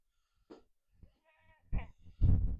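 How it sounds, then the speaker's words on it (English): A goat bleating in a desert garden after rain, a few short rising cries followed by two louder, longer bleats close by, with quiet gaps between them. "we got a goat that's complaining"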